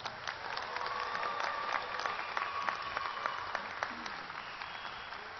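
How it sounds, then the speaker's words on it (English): A commencement crowd applauds graduates in a large hall, a steady wash of many hands clapping at moderate level, with a few sharper claps standing out throughout. "Please honor these graduates with a round of applause."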